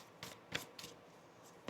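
Tarot cards are shuffled quietly up close, a few quick riffling and slapping bursts spaced unevenly.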